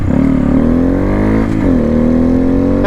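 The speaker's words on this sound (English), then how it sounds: "I love how this thing just instantly wakes up whenever you snap the throttle." Motorcycle engine, a stock motor with stock piston, revving loud and close with harmonic pitch rising and a quick dip and recovery midway as the throttle is snapped, with no talk.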